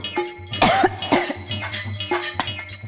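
Several sharp, close coughs come in quick bursts, with a short throat-clearing rasp between them, loud and alone with no talk over them.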